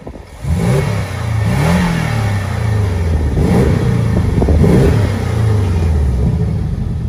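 Porsche 718 Cayman GTS engine revving loudly and close, with several rising and falling blips over a steady throaty rumble, no voices.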